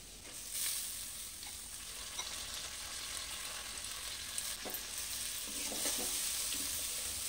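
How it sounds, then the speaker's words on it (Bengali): Rice for white pulao fries in a pan with a steady soft sizzle, broken by occasional scraping stirs of a spoon against the pan. "যে চালটাকে 5 মিনিট মতন ভাজতে হবে বন্ধুরা"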